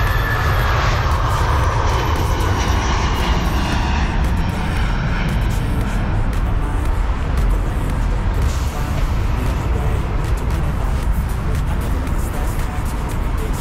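British Airways airplane taking off near narrow London roads, a loud continuous engine roar sustained throughout with a rising whine early on.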